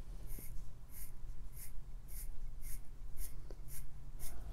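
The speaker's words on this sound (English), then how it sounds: "And then when we wind the watch," Crown of a Tissot Seastar Powermatic 80 dive watch being wound by hand: a steady series of about eight soft, evenly spaced ratcheting clicks, close up and quiet, with no talking.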